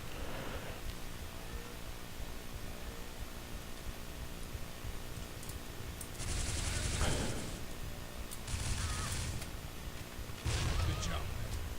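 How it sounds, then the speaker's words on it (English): Gunfire and a grenade explosion in the tactical shooter game Tactical Ops, with continuous background shooting and several loud bursts of broadband blasts in the latter half, close and heavy. "Look at that random grenade that killed somebody."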